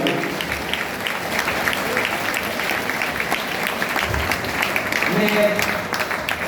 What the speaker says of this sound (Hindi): पूरा सदन एक बार दोनों हाथ ऊपर उठाइए और इनको तब तक तालियों में तब्दील करते रहे